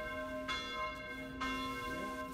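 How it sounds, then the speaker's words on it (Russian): Church bells ring out from a local church built in 1644 during Christmas in Salzburg, sustained and resonant with strikes repeating about once a second, fairly near and alone with no talk. "Колокола приятно звонили в местной церкви, построенной в"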